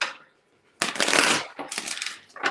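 Tarot cards being shuffled by hand for a card pull, heard as a quiet lead-in, then a long dense riffle burst followed by two shorter flurries of papery rustling, close and without talk.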